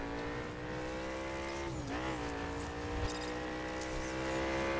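A car engine drones steadily in The Crew racing video game, its pitch dipping briefly then rising again as it accelerates, with faint tire noise and no talk.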